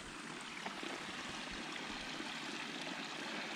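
Water from a ditch where a problematic beaver dam has been removed flows steadily in a continuous, moderately close rush and trickle, with no talk over it.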